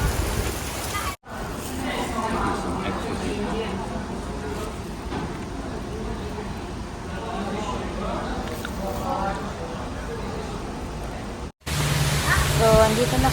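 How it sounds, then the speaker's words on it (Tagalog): Steady hiss of heavy rain pouring down in Macau, dense and unbroken, briefly cut by a gap before resuming louder. "Malakas na ang ulan."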